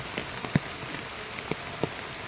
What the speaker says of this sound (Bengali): এই যে যে বৃষ্টি হচ্ছে